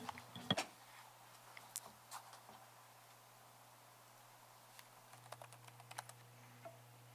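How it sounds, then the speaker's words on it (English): Faint, sparse typing on a computer keyboard during a zoning board of appeals meeting, with scattered clicks and short bursts of keystrokes over a quiet hum. "I was actually typing this"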